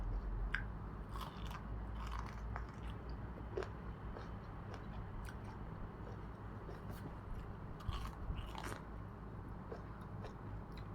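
Steamed sweet corn being bitten and chewed close up, with soft crunchy chewing clicks scattered over a steady low background hum, no voices.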